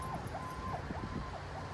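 A siren wails in repeated rising and falling sweeps over steady street rumble, moderately distant, from an emergency vehicle in Omaha during a park outing.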